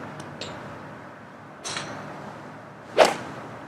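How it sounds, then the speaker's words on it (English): A golf club swinging through to strike a golf ball, with a couple of faint swishes followed by one sharp, crisp whoosh-and-crack near the end, heard close and alone. "now you're ready to go ahead and hit that golf ball"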